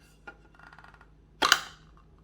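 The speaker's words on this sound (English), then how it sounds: "Install the Waterdrop WD EDF model filter cartridge until it securely clicks in" A Waterdrop WD EDF filter cartridge is seated into an electric water pitcher, with light plastic rattling followed by one sharp, close snap as it clicks into place.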